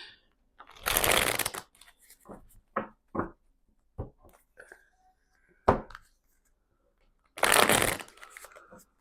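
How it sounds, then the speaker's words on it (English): Tarot cards are shuffled in two brisk riffling bursts, with scattered soft taps, handling noises and a few quiet sounds between them. "I'm just shuffling because they're asking me to shuffle"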